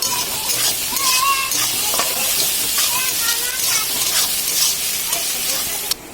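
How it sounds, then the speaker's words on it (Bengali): Onion, garlic and ginger frying in hot oil for chicken chowmein, a steady close sizzle and hiss with scraping stirs and faint voices behind. "তেলটা গরম হলে এবার পেঁয়াজ, রসুন, আদা কুচি সব কিছু দিয়ে দেবো, দিয়ে মশলাটা কষিয়ে নেবো ভালো করে"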